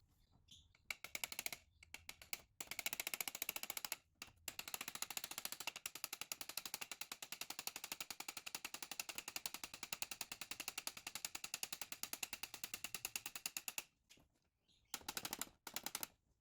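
Rapid, rattling metallic taps while a part is driven through during a short shift kit install on a mk3 Ford Focus RS/ST, a long continuous burst of close, fast strikes with brief bursts before and after.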